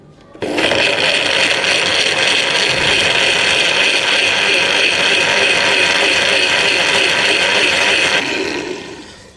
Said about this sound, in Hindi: अब इसको हमने सिंपल ही ग्राइंड कर लेना है।